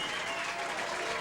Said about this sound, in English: We see Marcel Fournier applauding that shot